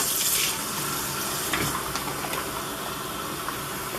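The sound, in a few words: water filling a hydration bladder from a stream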